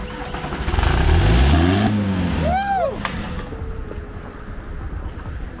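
A freshly washed car's engine cranks and catches, then revs up loudly and settles to a steady idle, with a whine sweeping across the sound.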